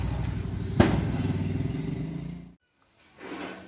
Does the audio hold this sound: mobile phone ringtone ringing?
no